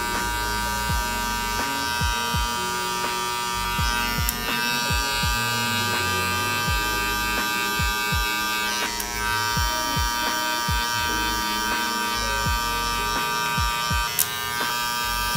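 Electric hair clippers fitted with a half guard buzz steadily through hair during a low taper buzz cut, a loud continuous motor drone with repeated short strokes as the blades pass through, no talking.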